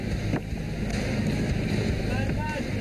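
A navy boarding team's speedboat from KD Terengganu closes in on a fishing boat at sea, with steady engine drone, wind and water rush filling the scene throughout.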